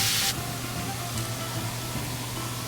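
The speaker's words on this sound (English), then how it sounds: "We're going to sear all sides of the short ribs to lock in those juices." Short ribs searing in a hot pan give a steady, even sizzle heard close up. A brief louder spray of sizzle opens the clip before it settles into a constant hiss.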